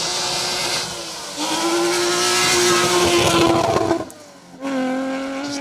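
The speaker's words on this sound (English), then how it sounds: "giving the rev limiter hell" A rally car screams against its rev limiter on a Trackrod Rally Yorkshire stage, the engine held at high revs with a stuttering, bouncing note, briefly cutting out before roaring back, loud and close.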